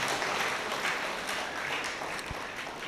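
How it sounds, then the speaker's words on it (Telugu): A congregation claps in welcome at a church blessing and inauguration in Hyderabad, a dense, even patter of many hands that holds steady across the short stretch, slightly distant and reverberant. "So with an applause we shall welcome him"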